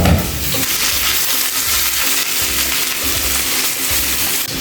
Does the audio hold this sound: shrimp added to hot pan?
yes